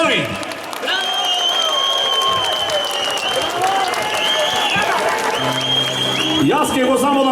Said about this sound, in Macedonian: Ве молам еден аплауз за нашите херои.